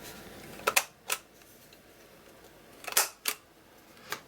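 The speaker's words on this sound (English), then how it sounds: "it's the We Are Memory Keepers corner chomper. It does 1/2 inch and 1/4 inch." A We Are Memory Keepers corner chomper punch snaps through paper corners, giving sharp mechanical clicks in short pairs with quiet pauses between them, close and crisp.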